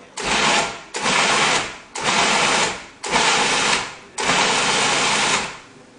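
A blender or food processor pulses cake batter in five loud bursts of about a second each, with brief pauses between them.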